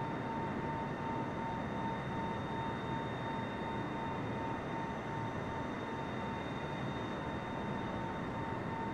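Steady, continuous aircraft engine drone with a high whine holding level as the plane climbs in Microsoft Flight Simulator, unbroken and fairly quiet throughout with no talk.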